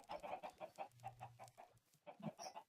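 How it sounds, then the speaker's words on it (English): Rapid, rhythmic clucking from a few Minecraft chickens, quick repeated bursts close by with a brief low hum under them, no talking. "I've got chickens bobbing up and down in there"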